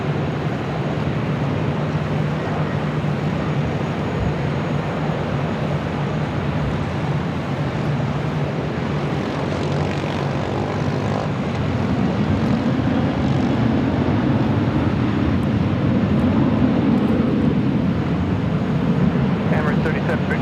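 An airliner arriving at Los Angeles International Airport on the north side, a continuous loud jet roar that builds slightly toward the end, with radio chatter and talk mixed underneath.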